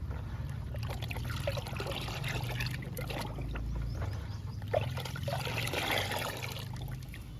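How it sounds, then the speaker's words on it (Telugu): Water sloshes and swirls as egg-yolk liquid plant fertilizer is stirred into it in a container, with soft irregular splashes and trickles, close and quiet throughout. "వాటర్ని, లిక్విడ్ని బాగా కలపాలి."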